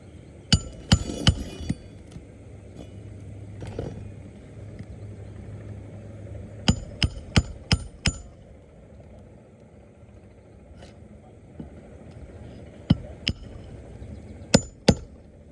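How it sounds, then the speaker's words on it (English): Sharp hammer strikes drive nails into roof shingles in uneven clusters, some in quick bursts of three or four, over a quiet outdoor background with no talking. "So now we're just going to try to get some nails in here."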